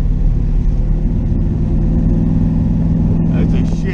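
A twin-turbo LS-swapped third-generation Camaro engine drones steadily at a loud, sustained level while driving, its tone climbing slightly near the end, with faint voices underneath.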